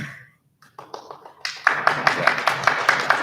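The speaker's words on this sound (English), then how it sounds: "He started the clapping for the night" Audience clapping at a family orientation seminar, starting with a few scattered claps and then building into steady, fairly close applause from a modest crowd.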